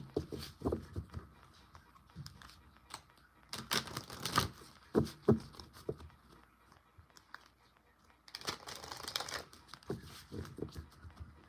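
A deck of cards riffled and shuffled in a few crisp bursts of flapping and clicking, close by, with brief pauses and handling between them.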